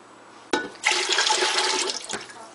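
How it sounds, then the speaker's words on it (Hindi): A clunk, then half a jug of water gushes and splashes into a pot for mutton yakhni in a steady pour, ending with a tap as the pouring stops. "अब हमने ये 1/2 jug पानी का डाला"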